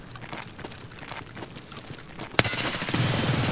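Gunfire in the Escape From Tarkov video game, scattered muffled shots followed by one sharp loud crack and a dense, noisy spray of automatic fire at the end.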